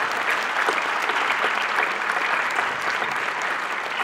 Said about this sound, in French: on peut applaudir le FCM